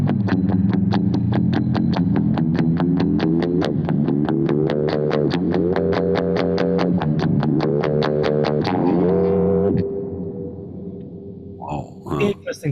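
A dubstep-style wobble bass tone with ring modulation, played through a Kemper Profiler, pulses in fast, even rhythmic bursts with shifting pitch steps for about ten seconds, then fades out into quieter scattered sounds.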